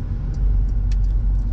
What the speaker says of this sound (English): there's no fake piping of exhaust sounds in here. It is what you actually are getting.